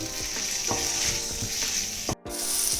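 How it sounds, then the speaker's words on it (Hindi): Chicken frying on a high flame for pineapple fried rice, a loud dense sizzle up close with rhythmic stirring scrapes and a momentary dropout, no speech. "आम चिकेन आड करदे और सब जमी कही टे हाई फ्लेम यहाँ कुक कर"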